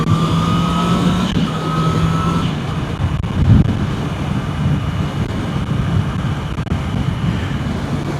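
Wind noise buffets the microphone during a fast ride on a Honda CB650R motorcycle along rural Australian roads, a steady loud rush with a low engine hum beneath it.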